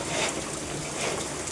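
Steady rain with hail falling during a heavy storm in Bhavnagar, a continuous broadband hiss of dense pattering that holds at an even, fairly loud level throughout with no talk.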